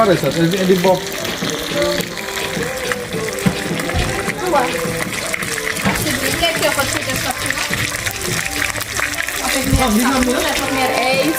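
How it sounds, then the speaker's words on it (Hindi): Fish frying in hot oil at a jungle camp in Suriname gives a loud, steady sizzle and crackle, with people talking over it and some clattering now and then. "ये फिश फ्राई हो रही है जी"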